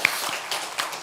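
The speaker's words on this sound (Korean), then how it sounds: "박수 한번 올려드리시겠습니다." A short burst of applause from a church congregation, steady and dense clapping throughout, fairly close.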